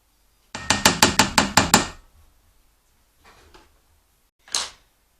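A spatula scrapes cake batter off a stand mixer's paddle over the bowl, heard as a quick run of seven sharp, evenly spaced taps, then a faint scrape and one last solid knock after a pause.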